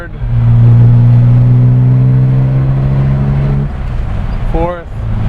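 A 1960 Aston Martin DB4 Series 2 pulls hard in third gear, a loud, close, steady engine drone that cuts off sharply, followed by a quick rising rev and the engine settling again.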